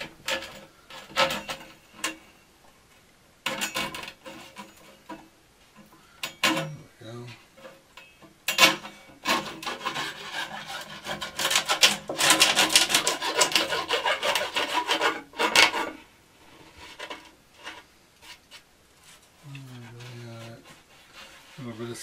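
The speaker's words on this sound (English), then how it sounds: "A little bit of sanding should take care of that now." Sandpaper rubs back and forth across a wooden desk edge in short strokes, then a longer stretch of steady rasping sanding, close and fairly loud.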